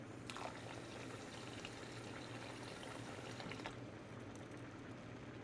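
Water poured into a pot of Louisiana jambalaya after the oil, a steady near liquid wash with a faint low hum underneath and no voices.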